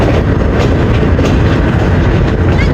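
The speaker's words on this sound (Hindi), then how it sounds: "ट्रेन हमारी पहुंच चुकी है Taxila cantt junction railway station पे" The Hazara Express rolls into Taxila Cantt Junction station with a loud, steady rumble of railway carriages on the track, heard from on board with faint rhythmic wheel clatter.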